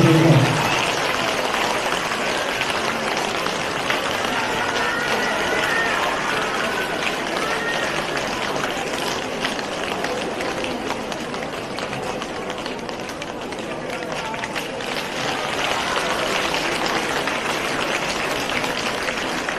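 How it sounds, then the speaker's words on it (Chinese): Audience applause at a Buddhist teaching talk, a long, even wash of clapping from a large crowd sustained for the full stretch, with a bit of voice at the very start. "再一次用热烈的掌声"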